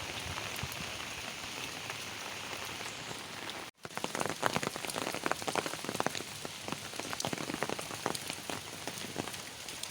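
Heavy monsoon rain that has fallen for four days in Rourkela pours down steadily, with a dense hiss of drops and sharper nearby splatters after a brief dip in the sound.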